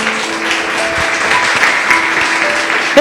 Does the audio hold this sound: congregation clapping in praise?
yes